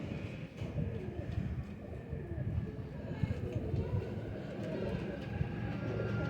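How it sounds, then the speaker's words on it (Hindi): Soft, low pigeon cooing in a quiet setting, with faint background rumble and occasional small clicks. "ये बहुत प्यारा कबूतर है दोस्तों"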